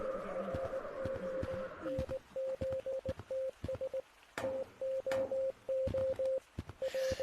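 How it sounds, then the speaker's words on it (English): Morse code beeps sound inside the Gorilla Tag virtual reality game: a steady tone pulses in short and long bursts with irregular gaps, fairly faint, over scattered clicks and game noise. "I can hear Morse code."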